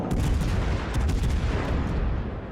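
Main guns of the Spanish cruiser Castilla fire in a naval battle game, a loud booming salvo of overlapping blasts that rumble and decay over a couple of seconds.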